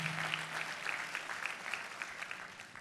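Church congregation applauds for Jesus at a sermon, a soft, steady patter of clapping heard faint and distant for a few seconds, with no talk.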